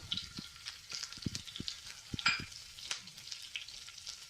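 Green chillies tipped into a hot frying pan of oil for a Kerala-style potato jeera, giving a steady soft sizzle with light stirring scrapes and a brief brighter crackle midway, with no talking.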